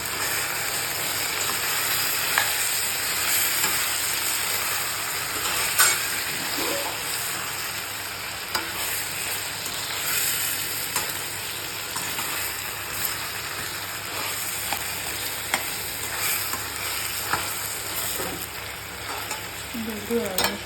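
Eggplant and tomato pieces fry and sizzle steadily in hot oil for the kegal ennai kathirikai kootu, with occasional scraping clicks of a spoon stirring the pan, close and continuous.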